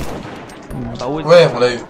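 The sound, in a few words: gunfire from a rifle in a video game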